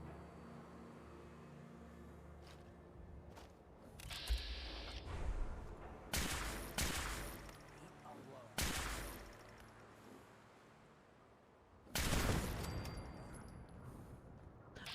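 Bursts of automated turret fire in Fallout 4 crack out in short, loud volleys separated by quieter stretches, with distant shots between them.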